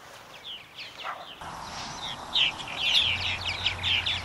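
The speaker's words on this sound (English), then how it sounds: "Look at all them birds flying around." Purple martins chirp and chatter at a busy spring nesting colony in Kentucky, a dense flurry of bright calls over a low outdoor hum, with many birds flying around nearby.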